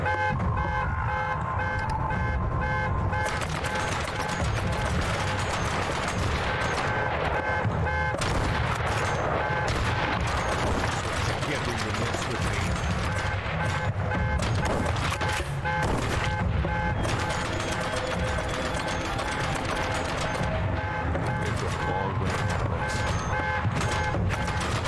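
Rapid, dense gunfire in a The Last of Us-style shooter video game keeps up sharp cracks and bursts over a blaring alarm-like tone. The firing is loud and sustained throughout, with intermittent louder volleys.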